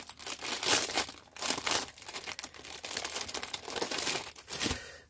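Plain kraft paper envelopes crinkle and rustle as they are handled up close, in steady bouts of crumpling with brief pauses between them.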